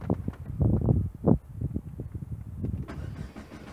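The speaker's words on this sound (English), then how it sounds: "I'm cranking the engine over now" A car engine with a failing crankshaft position sensor cranks over without firing, a run of rhythmic starter churns that swell and fade, followed by a steady mechanical whir.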